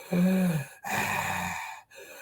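A voice imitates heavy, raspy breathing, with a long drawn breath in followed by a slow, wheezy exhale, close and fairly quiet.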